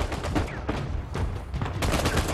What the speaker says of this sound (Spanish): ¡Me están cagando a tiros!